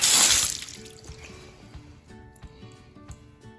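Water from a garden hose gushes out through a Permagreen wheel in a garage, a loud splashing burst at the start that fades quickly into softer trickling and scattered drips.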